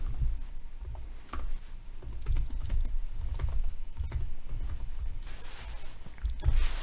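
Rapid, irregular clatter of keys being typed on a computer keyboard, close and fairly crisp, with bursts of keystrokes and short pauses.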